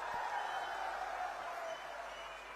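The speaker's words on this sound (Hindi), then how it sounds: "इसलिए दोबारा ताली बजाओ जरा" A large crowd at an outdoor political rally in Seraikela claps and cheers in a broad, steady roar that eases off slightly toward the end.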